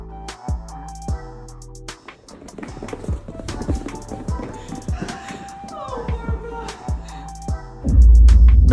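Horse hooves clip-clop in a run of sharp, hollow knocks that come quickly over music, ending in a loud thudding burst.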